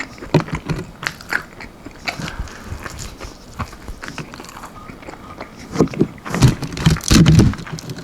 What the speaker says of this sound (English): It has a slight crunch.